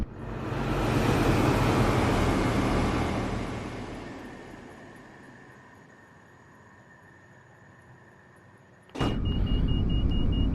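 A Class 171 Turbostar diesel multiple unit in Train Sim World 6 roars past, swelling loud then fading into a steady hum before an abrupt jump in loudness near the end; no voices.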